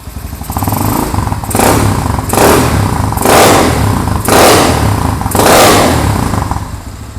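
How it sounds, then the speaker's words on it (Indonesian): Custom Honda CB125 motorcycle with a 28 mm PWK carburetor and RAP stainless-neck exhaust, revved loudly and close in five repeated bursts, each throttle blip rising then dropping back to a rough idle. "Suara mesinnya lumayan menarik."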